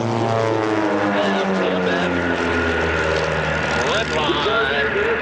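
Aerobatic airplanes from Redline Airshows climbing through a maneuver at an airshow: a loud, steady propeller-engine drone with shifting pitch that persists throughout, and a commentator's voice faintly underneath.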